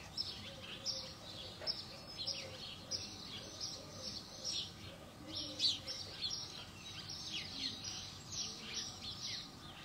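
Small songbirds chirp and twitter in quick, scattered bursts throughout, fairly close and steady, with a soft low hum beneath and no talking.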